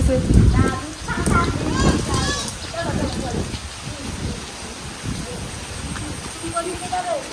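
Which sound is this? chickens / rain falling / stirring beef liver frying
rain falling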